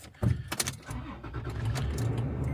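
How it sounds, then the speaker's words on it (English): A second-generation Toyota Tacoma starts with a short clatter and crank burst, then settles into a steady, low idle rumble close by. "So let's turn on this car and see if this thing powers up."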